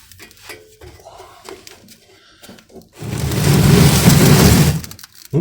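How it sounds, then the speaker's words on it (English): Metal oil drain pan dragged and set down beneath a 1978 Dodge Power Wagon, a loud scraping, rattling clatter lasting nearly two seconds after some quieter light knocks and handling noises. "Let's get the drain pan underneath."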